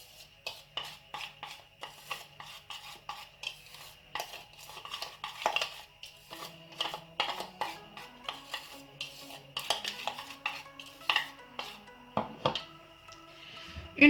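Slime ingredients stirred with cornstarch in a bowl, giving a steady run of light scraping and clinking of utensil against the bowl, close and continuous, with a faint tonal hum underneath.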